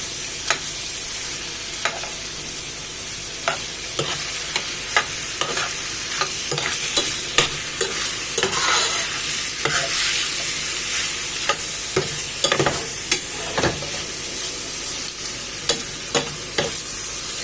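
Steady sizzling of goat liver frying in oil, with repeated scraping stirs and clicks of a spatula against the pan at irregular intervals.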